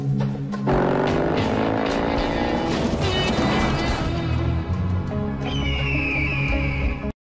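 A car accelerates loudly in a Dior Sauvage perfume advert, its sustained engine roar swelling inside a dense soundtrack before the sound cuts off abruptly.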